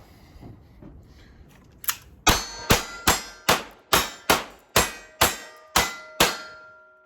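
A Pietta Great Western II revolver fires at the range: about ten sharp, loud shots at an even quick pace, each ringing out with a metallic decay, after a faint thud and some low background noise.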